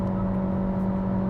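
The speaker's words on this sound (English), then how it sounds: "it's not a pretty engine note until you turn sport mode" A 2019 Honda Insight hybrid engine in sport mode climbs uphill, a steady droning hum with a strong fixed tone heard from inside the cabin, continuous and moderately loud.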